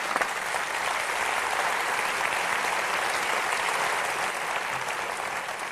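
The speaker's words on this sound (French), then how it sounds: "Vous pouvez applaudir Rémi Pfimelin." Sustained applause fills a hall at the 27th Molières theatre awards ceremony, a dense, even wash of clapping from a large audience with no talking.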